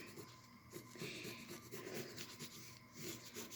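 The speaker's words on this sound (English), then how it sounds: "Take a pencil and draw a line" Soft, close scratching of a pencil moving across paper in a steady stroke, quiet and dry with a faint rasping texture.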